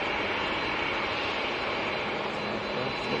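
A Boeing 787-9 Dreamliner bound for Doha departs Manchester Airport, its jet engines producing a dense, steady roar heard close and loud, unbroken for the whole stretch with no speech.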